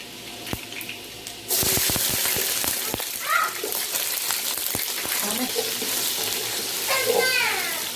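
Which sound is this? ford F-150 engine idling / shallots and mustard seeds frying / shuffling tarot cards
shallots and mustard seeds frying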